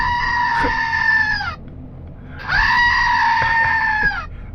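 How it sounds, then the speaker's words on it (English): A screaming goat novelty toy shaped like a sheep lets out two long, loud, nasal bleating screams, each about a second and a half, separated by a short pause, with faint background noise underneath. "I'm sure a lot of you have probably seen the screaming goat online."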